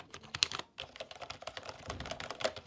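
Quick typing on the number keys of an AULA S99 gaming keyboard, a close flurry of clicky keystrokes after a brief pause, no voices.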